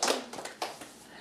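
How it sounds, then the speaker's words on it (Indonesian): A church congregation claps hands in praise of Jesus, a quick burst of scattered taps and claps that fades within a second or so, fairly faint. "Mari kita tepuk tangan buat Tuhan Yesus."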